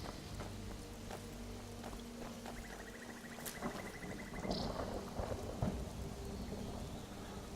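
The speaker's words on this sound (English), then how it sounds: "we're gonna get out of the rain" Rainstorm in Skyrim, the video game, with a steady downpour hissing throughout and rolling thunder rumbling up in the middle, plus a few footstep-like thuds close by.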